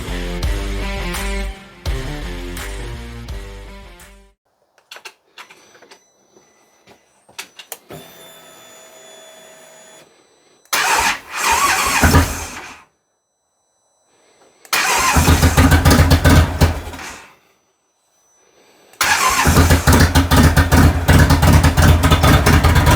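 A cold Indian motorcycle engine cranking with a starter several times in separate loud bursts, struggling before catching, with quieter clicks and hum between attempts, close by.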